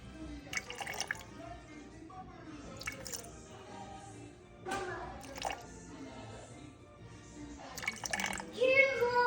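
Water is poured into a bowl set on a kitchen scale while mixing sourdough starter, giving faint trickling and dripping bursts between stretches of nearby talk in a quiet indoor room.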